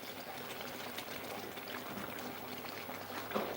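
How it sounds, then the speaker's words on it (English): Water is poured into a cooking pot while making sour-sour in coconut milk, a steady close splashing flow that runs evenly for several seconds. "I'm going to add 1 cup of water to stir this"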